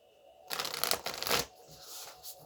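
A deck of tarot cards is riffled and shuffled close by, a dense fluttering burst of flicking card edges for about a second, followed by softer sliding and tapping as the deck settles.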